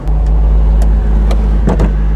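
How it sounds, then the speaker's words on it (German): A 1954 Mercedes 300 SL Gullwing engine idles with a deep, loud rumble, broken by a few short sharp blips on the throttle. "jetzt haben wir 2-3 Mal schön drauf getreten. Also da kommt richtig Dampf, die Maschine zieht schön hoch, die hat einen ganz tollen Klang"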